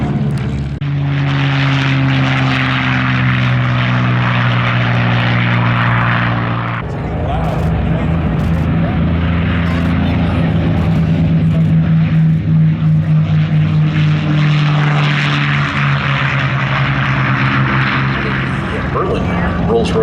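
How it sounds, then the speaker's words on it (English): P-51 Mustang propeller fighters with Rolls-Royce Merlin engines taxi past at an air show, a steady loud droning roar with a deep throbbing hum that shifts as the aircraft pass, while an announcer talks over it. "As our Mustangs taxi by the lead Mustang, Roosevelt, you'll notice that one looks different than the two that are following it."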